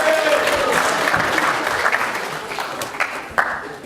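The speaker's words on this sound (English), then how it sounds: "Give a round of applause" Applause from a science show audience as a volunteer comes forward, a brief burst of clapping that tapers off, with a few louder individual claps near the end.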